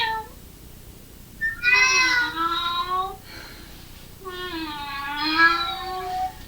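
Children imitate angry cats, producing long, drawn-out whiny meows in two loud, wavering bursts separated by a short pause, with no other talk.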